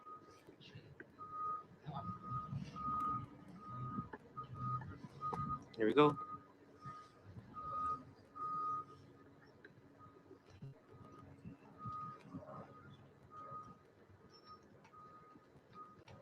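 A truck backing up with its reversing beeper sounding a steady, repeated series of tones at moderate distance, under people talking outdoors.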